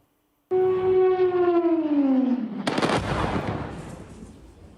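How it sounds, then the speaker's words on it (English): A wailing siren across a city slides slowly downward in pitch, then a burst of loud cracking bangs from strikes cuts in and rumbles away into the distance. "sirens can be heard across the city"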